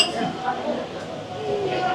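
Glasses clink in a toast over drinks of tropical gin at a Kuta venue, a light chime heard beneath people chatting.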